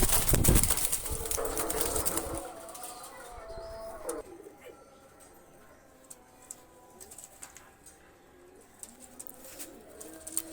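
Two Pakistani high flyer pigeons coo in soft, repeated calls, close by, after a louder burst of noise at the start; a few faint chirps and rustles follow in a quiet room.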